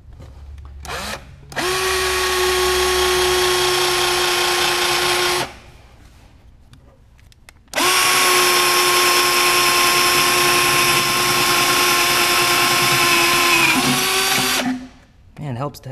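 Power drill with a new bit boring during a Porsche 944 LS engine swap, two long loud steady whining runs separated by a short pause, close up.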